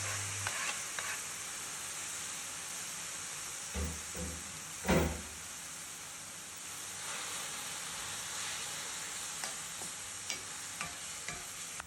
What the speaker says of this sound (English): Mix the spices with the leek before adding some chopped tomatoes.